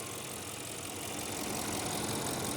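An Audi S6 4.0T Premium Plus with its 450-horsepower twin-turbo V8 idling under an open hood, a steady, smooth and even engine hum heard up close with no talking.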